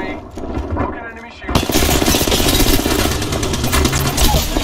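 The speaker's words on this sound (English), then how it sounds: "Gunfire." Rapid automatic gunfire in the Apex Legends video game, a dense continuous burst that starts after a brief pause and stays loud, with game sounds mixed in.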